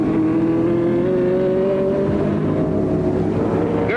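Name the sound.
race car accelerating back into race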